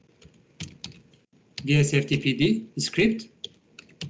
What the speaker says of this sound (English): And I'll just start it again by typing